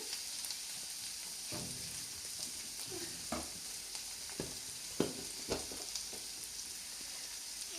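Onions fry on low heat in a pan for tamarind-leaf egg fry, a constant soft sizzle with a spoon scraping and tapping against the pan every second or so.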